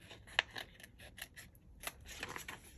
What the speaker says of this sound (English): So I'm going to cut this one out